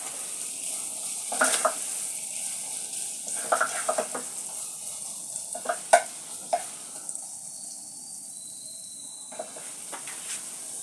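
Potatoes are stirred in a pan after salt goes in, giving soft intermittent scraping and clinks over a steady faint sizzle, fairly quiet and close.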